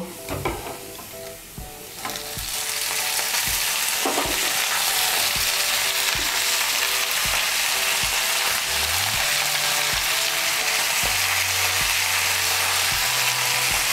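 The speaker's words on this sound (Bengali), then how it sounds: "এখন এর মধ্যে আমি শীষ পালংটা দিয়ে দেব" Spinach hits lightly fried mung dal in hot oil in a pan, and a loud, steady sizzle rises and holds, with faint scraping taps of stirring throughout.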